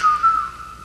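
A short, bright whistled melody from the theme of The Andy Griffith Show, a clear pure tone over a few notes, close and alone.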